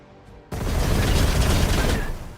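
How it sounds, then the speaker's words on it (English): Turrets firing in the video game Chaos Gate: a sudden burst of dense, heavy gunfire opens after a brief quiet and keeps booming loudly and continuously to the end, like a sustained fusillade. "The turrets do fire."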